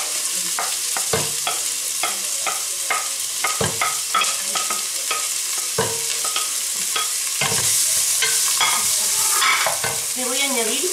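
Onion, pepper and garlic fry in a casserole for a sofrito, with a constant bright sizzle and repeated close scraping stirs of a utensil across the pot.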